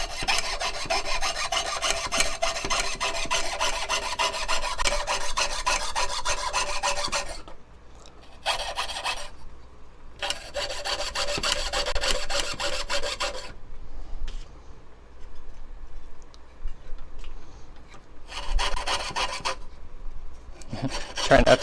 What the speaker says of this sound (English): I'm going to take some of the varnish off of them with my buffer